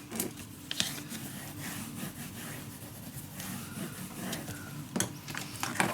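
Paper pieces are burnished down onto a steampunk-style Christmas craft letter, giving soft, continuous scratchy rubbing strokes with a few sharper scrapes, close-up and fairly quiet.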